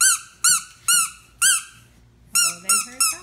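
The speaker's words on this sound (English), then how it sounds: "Squeaky toys." A squeaky dog toy squeaks seven times in quick, uneven bursts, high and piercing, close by with quiet gaps between squeezes.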